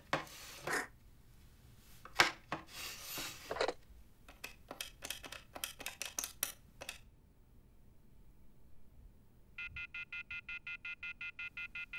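Someone dials a landline telephone in a seaside shop. Handset rubbing and scraping are followed by a series of short button clicks, and then a rapid, even train of dial tones pulses near and clear.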